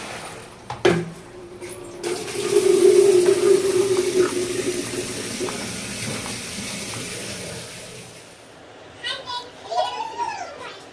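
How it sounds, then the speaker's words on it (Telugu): Raw mangoes being washed under running water, a steady rush from the tap for about eight seconds that then cuts off, with children's voices and other talk over it. "ఇది తీసేయాలి, మొత్తం ఇది తీసేసి కడగాలి, మంచిగా కడిగి ఆరబెట్టాలి 2 సార్లు."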